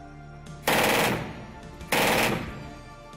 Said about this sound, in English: Machine gun MG3 is an open, fully automatic weapon for sustained firing and firing in bursts.